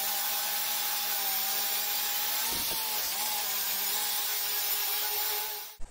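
A power tool cuts a slot into 50 by 50 mm square steel tube, a loud steady whining grind with a brief dip in the middle, running for several seconds before stopping abruptly.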